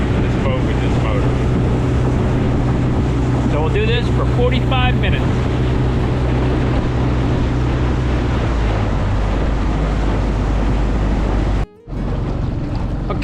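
A boat runs on a 15 hp Honda outboard motor fitted with a 4-blade prop. It gives a loud, continuous engine drone with wind buffeting the microphone, and someone speaks briefly over it early on.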